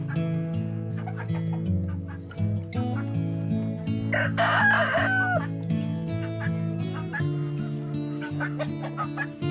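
Chickens and guinea fowl in their coops cluck and call continuously while feeding on scratch, with a rooster crowing partway through. The birds sound close and busy.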